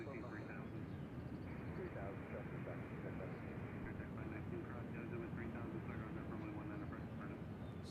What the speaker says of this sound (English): Here comes the 319 from Newark.